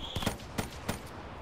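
Gunfire from a gun in the video game Giant: three or four sharp shots fired in quick uneven succession, loud and close, each with a short crack and a brief tail.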